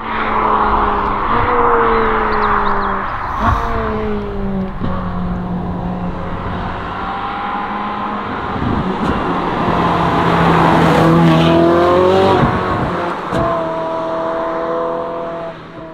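A Ferrari 458 engine and exhaust roar loudly up close, revving through several rising gear pulls with brief drops between shifts and a faint tire squeal along the way.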